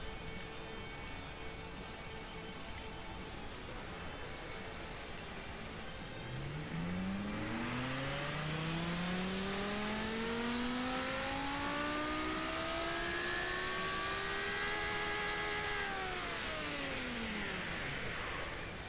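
A V10 car engine in the video game Automation revs up hard for several seconds, its pitch climbing steadily to a loud sustained howl, then falling away as it eases off.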